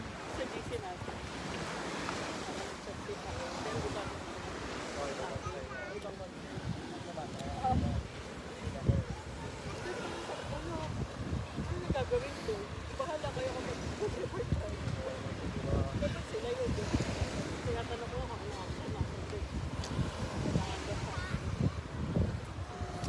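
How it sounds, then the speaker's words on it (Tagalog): Strong wind buffets the microphone on a beach in Anda, Bohol, with waves rolling and surf washing in, a steady loud roar throughout. "Hopefully, naririnig ako kasi masyado mahangin. Mahangin talaga."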